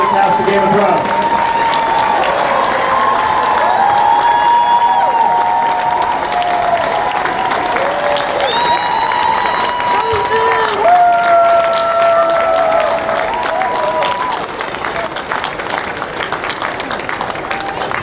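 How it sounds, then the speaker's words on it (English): A huge Comic-Con crowd in San Diego's Hall H, 2019, applauds and cheers for the Game of Thrones cast, with a sustained roar of clapping, whoops and screams over eighteen seconds and voices shouting within the din. "let's give a warm round of applause for the cast of Game of Thrones"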